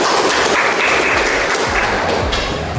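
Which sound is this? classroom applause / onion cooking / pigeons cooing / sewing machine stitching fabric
classroom applause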